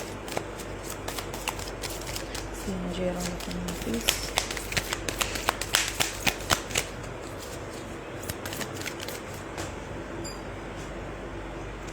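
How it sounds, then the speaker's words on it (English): A tarot deck being shuffled up close, with crisp riffling bursts and rapid flutters, while someone talks over it. "I haven't shuffled this deck very nicely"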